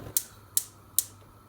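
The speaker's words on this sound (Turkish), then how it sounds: "Şimdi ocağımın altını açıyorum." A gas stove burner igniter clicks three times at an even pace, sharp and close, in a quiet kitchen while cooking okra.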